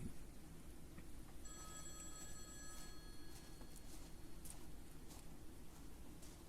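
An old payphone from a bygone era rings with a metallic bell trill starting about 1.5 seconds in and sounding faint and somewhat distant, over a steady hiss of background noise.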